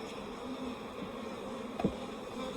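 Honeybees humming around the front of a colony's hive, a steady close buzzing drone throughout with one brief louder pass of a bee near the middle.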